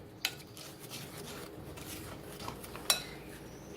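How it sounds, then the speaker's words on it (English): Ingredients for a pork chop marinade are stirred together in a bowl, faint soft rubbing and scraping with a couple of sharp utensil clinks against the bowl, no voices. "Mix all of that up together."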